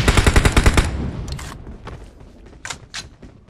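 A burst of rapid automatic gunfire in a battle royale video game rattles loudly for about a second. Scattered thuds and sharper single shots follow and fade, with no voices.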